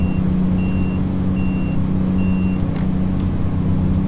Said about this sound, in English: The beeping sound is the turn signals